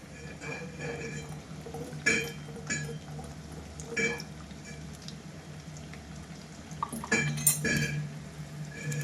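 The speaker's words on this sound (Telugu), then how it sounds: "స్లోగా చక్కగా సిమ్లో పెట్టుకుని వేయించుకోవాలండి" Small amla gooseberries fry slowly in oil in a pan on a low flame, a soft steady sizzle broken by several clinks and scrapes of a spoon against the metal.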